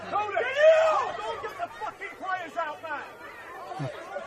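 Spectators at a 2025 South Australian football match between MetroStars and Adelaide Comets, with a trouble spot in the crowd, shout and chatter in a loose, close babble of overlapping voices.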